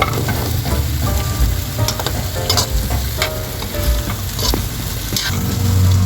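Squash and string beans sautéing in a pan with garlic and onion, a steady loud sizzle with repeated stirring scrapes and utensil clicks throughout, no voices.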